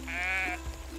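A single sheep bleat from the farming game Everdream Valley, one clear wavering call near and loud, followed by a soft thump and brief game ambience.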